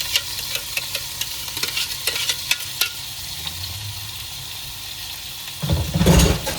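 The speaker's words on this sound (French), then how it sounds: "On mélange comme il faut. Que tout soit bien imprégné de la sauce." Birria meat coated in chili paste being stirred in a pot, with crisp scraping clicks of the spoon over a low sizzle, ending in a heavier thick churning of the sauce.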